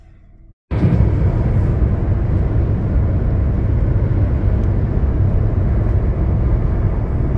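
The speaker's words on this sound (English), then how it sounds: "Okay, so here I am driving the Sonata." Steady, loud broadband road and engine noise from a 2014 Hyundai Sonata GLS cruising on the freeway with cruise control set, a continuous droning rumble heard from inside the cabin after a brief quiet start.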